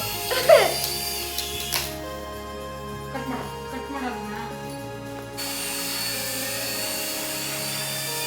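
A steady mechanical whine with a low rotor-like drone, continuous throughout, with brief shifts in tone partway and no speech.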